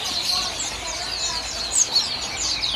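A Rio-Rio starling (jalak) gives repeated high, thin chirps from a kiosk stock cage at a bird market, moderately close against busy market hubbub.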